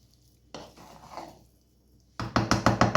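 Cooked rice stirred in a large bowl, heard as a soft scraping swirl followed by a louder series of quick, close clinks and scrapes.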